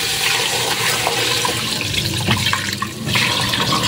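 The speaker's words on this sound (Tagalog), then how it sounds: "Lagyan natin mga idol ng 1 gram na tubig." Water poured into a pot of native chicken tinola, a steady, fairly loud rush of liquid running throughout without pause.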